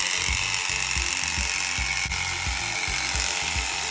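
Sheep-shearing cutters pressed to the skin clip through wool with a constant high buzzing whir and a rapid, regular low knocking, close and loud throughout.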